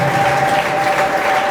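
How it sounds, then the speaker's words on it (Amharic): Congregation applause at a church testimony service: a dense, steady wash of clapping for the whole stretch, with a faint sustained tone running beneath it. "አጨብጭቡለት።"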